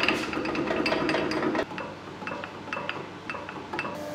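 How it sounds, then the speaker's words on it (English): A combination jointer-planer in a woodworking shop is switched over from jointer to planer mode, with a string of metallic clunks, ratcheting clicks and knocks at close range. "After jointing, I made the conversion from jointer to planer."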